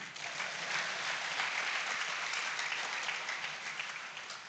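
An audience at a school farm awards grand final claps for Ghana, a dense, even round of applause from a crowd that lasts a few seconds.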